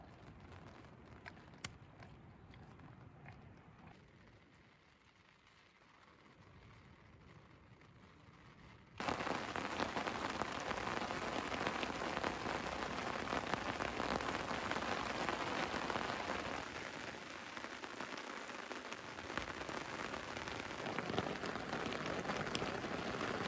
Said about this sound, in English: The rain's easing up slightly, but now some thunder's rolling in.